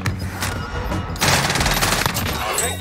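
Rapid carbine gunfire in the Warzone video game, a dense burst of close, loud shots that rattles on continuously after a brief lull, with game effects layered underneath.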